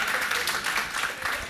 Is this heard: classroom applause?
yes